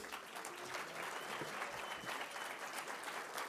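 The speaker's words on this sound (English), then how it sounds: "Big round of applause for Leslie." Steady audience applause fills a packed room at a Canadian film editors' awards ceremony, a continuous, evenly textured clapping without pauses, fairly quiet in level.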